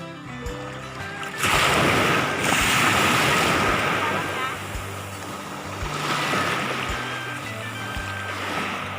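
Waves surge and break on a beach in loud rolling rushes of surf, with wind buffeting the microphone.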